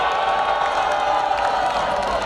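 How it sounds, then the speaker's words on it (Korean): A large outdoor crowd at a political prayer rally in Incheon applauds and cheers continuously, a dense, loud roar of clapping and shouting that holds steady throughout. "박수 부탁드리겠습니다"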